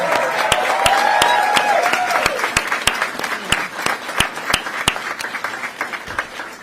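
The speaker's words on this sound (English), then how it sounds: "So let's applaud the team." Campaign headquarters staff applaud at a meeting in Wilmington, a steady crowd of clapping with a few sharper, louder claps standing out, with brief talk at the start before the clapping thins toward the end.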